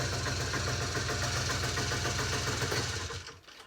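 A small engine with an automatic choke runs steadily at close range, a loud continuous idle with a fast, even beat that fades as it winds down at the end.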